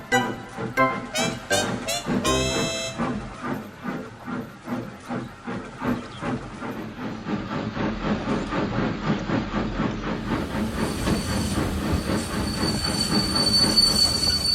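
Steam locomotive rolling slowly onto a turntable in the Trainz railway game, with steady wheel clatter and squealing rails, a short whistle at the start and rising steam hiss toward the end.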